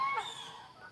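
A single harsh, honking goose call rings out fairly close, fading over about a second.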